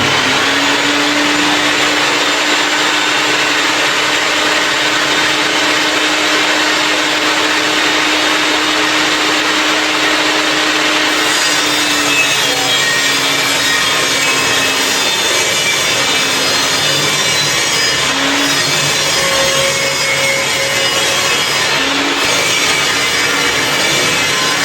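A saw with its crown guard removed cuts through timber in one long, continuous pass, a loud, steady rasping whine close by that shifts slightly in pitch toward the end, with no voices.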